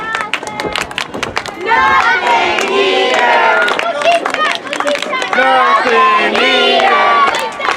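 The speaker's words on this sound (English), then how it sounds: "the crowd picking up that nothing eater chant, and Superstar Steve's not impressed." Wrestling crowd at an outdoor independent show in Mack's Creek, Missouri, chanting loudly and steadily in a rhythmic roar of many voices, sustained across the whole stretch with shouts rising over it.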